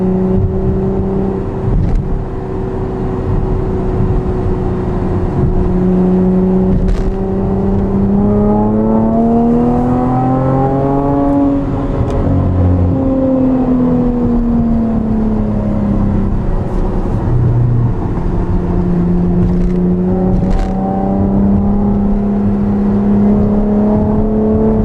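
A Camaro V6 with an MRT axle-back exhaust revving with manual shifting, a loud close engine drone rising and falling in pitch around 4,000 RPM under light to medium throttle, steady and continuous.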